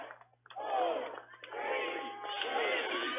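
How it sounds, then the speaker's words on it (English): Stadium crowd at an Oklahoma State Cowgirls versus Oklahoma women's soccer Bedlam match chants through the final seconds toward the win, a dense roar of many voices that dips briefly and then swells and holds loud. "You'll hear the crowd count this down to a Cowgirl win"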